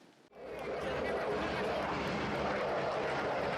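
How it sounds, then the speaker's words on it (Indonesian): Air force fighter jets maneuver overhead during a large-scale military exercise, a loud sustained engine roar swelling in after a brief quiet start and holding steady, with faint crowd murmur underneath. "Inilah manuver pesawat tempur dan pasukan terjun payung yang diperagakan TNI Angkatan Udara"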